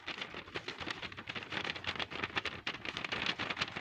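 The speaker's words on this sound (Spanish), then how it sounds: "Vamos a escuchar cómo hace la lluvia." Rain falling steadily on a surface, an even pattering hiss of many drops at moderate level with no talk over it.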